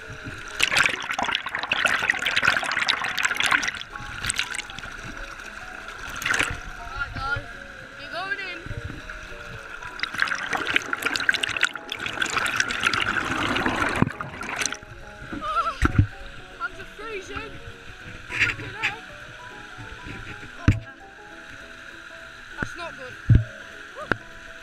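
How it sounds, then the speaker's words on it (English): River water rushes and churns around a submerged GoPro camera, a loud, turbulent gurgling and splashing with bursts and bubbling, fairly close throughout. "I'm now going to put the GoPro in the river and see how much force there is."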